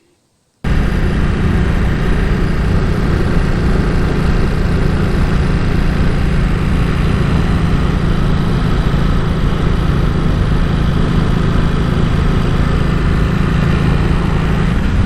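A Ducati SuperSport 939/950 motorcycle engine drones steadily while riding, a loud, constant hum mixed with wind rush that starts abruptly and holds throughout, without speech.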